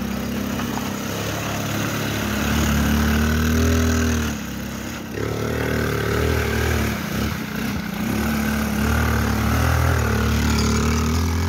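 A quad bike engine idles and revs steadily in bursts, a continuous mechanical drone that rises and falls with a brief dip midway, close by with no voices.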